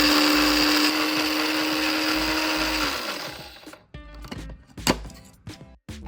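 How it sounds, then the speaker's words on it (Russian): An electric coffee grinder grinding dried spices whirs loudly and steadily, then winds down and stops, leaving a few clinks and taps of handling afterward. "Смешиваем в кофемолке."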